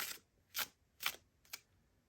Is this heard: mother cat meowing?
no